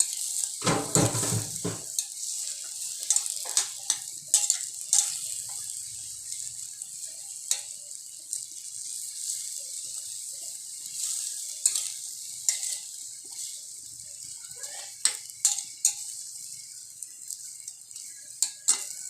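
Vegetables for Bikolano-style ginataang pakbet stirred in a pan, with a steady sizzle under repeated scraping and clinking of a utensil against the metal, plus a brief louder clatter near the start; no talking.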